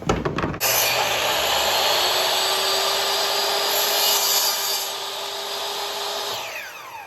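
Power saw cutting wood for a rustic picture frame, one steady loud cut of about six seconds starting abruptly and spinning down at the end, with no talk.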